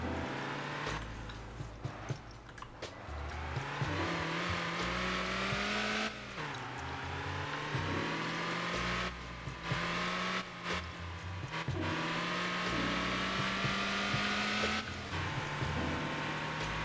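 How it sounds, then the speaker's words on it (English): Truck engine in a driving video game revving hard and continuously, its pitch climbing and dropping through gear changes, loud and steady throughout with no talk. "It sounds like the engine might just jump out of the car."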